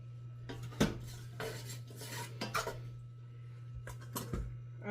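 A cooking pan clatters and scrapes as it is slid across a stovetop while making spaghetti carbonara, with a few distinct metallic knocks over a steady low hum.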